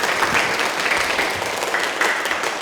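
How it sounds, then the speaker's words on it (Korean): An audience bursts into warm applause, dense steady clapping from many hands filling the room, close and fairly loud throughout. "이분 취업하고 건강해지도록 큰 박수 부탁드립니다."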